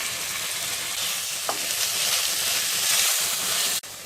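Garlic paste and tomato pieces fry in a pan for egg biryani, a steady close sizzle and hiss with no voices, ending on a sharp knock.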